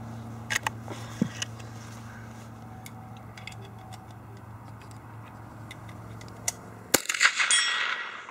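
Sharp .22LR shots from a Chipmunk youth rifle crack a few times early on, with a steel target pinging faintly from 100 yards, followed by a louder rustle or bump near the end.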